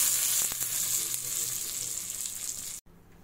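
A tempering of mustard seeds, cumin and a dry red chilli sizzles in hot oil for cucumber tambuli, a close, bright crackle with a few sharp pops, then it cuts off abruptly.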